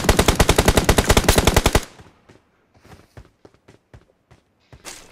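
Rapid automatic gunfire from PUBG Mobile, a dense, loud burst of evenly spaced shots lasting almost two seconds, then quieter scattered footsteps and clicks with a short final burst.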